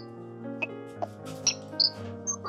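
Sharp, brief bird chirps sound several times over a steady low tonal hum, close and fairly clear.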